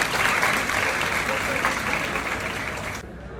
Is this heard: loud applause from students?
yes